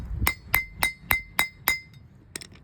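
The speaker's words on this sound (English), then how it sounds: "So you take that same socket from earlier, put it on the end of that U-joint, drive it down" A socket is hammered onto a U-joint cap to drive it down on a 1994 Jeep, six evenly spaced sharp metallic strikes ringing close up, then a pause and a couple of lighter taps, with no talking.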